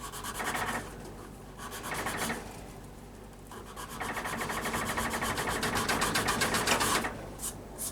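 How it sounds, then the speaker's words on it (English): Rasp filing an ebony overlay on a hickory pyramid bow, rapid rhythmic scraping strokes in bursts, close and fairly loud, with short pauses between passes. "So back to the rasp."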